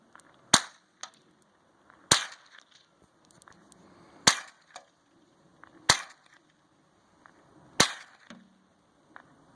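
A .22 rifle fired outdoors: five sharp, separate cracks spaced about every two seconds, each dying away quickly, with faint background sounds between shots and no talking.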